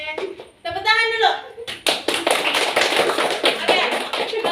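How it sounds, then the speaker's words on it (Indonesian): Classroom of children clapping after a group presentation, dense loud applause starting sharply and continuing steadily, with young voices talking and shouting over it. "Tepuk tangan dulu."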